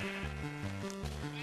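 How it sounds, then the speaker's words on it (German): Several quick, synthetic sheep bleats from Minecraft follow one another in a stepped, wavering rhythm, clear and close with no talking. "Da laufen noch mehr Schafe rum."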